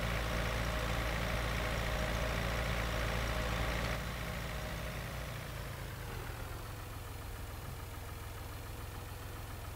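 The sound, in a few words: Ursus tractor engine idling in Farming Simulator 2013 video game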